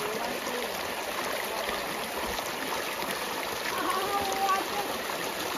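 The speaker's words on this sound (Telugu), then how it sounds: "విన్నారా వాటర్ సౌండ్?" Stream water rushes steadily along a trail on a trek to Paarakaphi Waterfalls, a constant near, broadband flowing hiss with no breaks.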